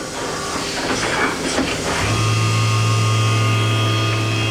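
A FANUC Robodrill vertical machining center's spindle turns at 1800 RPM. It starts with airy, shifting hiss and clatter, then settles into a loud, steady whine with sustained low and high tones.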